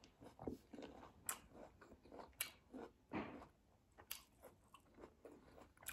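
Someone bites and chews a fresh, crunchy pear, with a series of crisp crunching bites and softer chewing between them, close and quiet, spaced about once a second.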